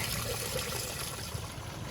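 Steady trickling water runs continuously from a draining fresh water tank on a fifth-wheel RV, a close, even stream with a faint wet texture.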